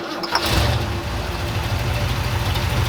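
An abandoned Ford F-250 truck engine, left sitting for 21 years, starts and runs with a loud, rough, steady rumble close by, with no talking.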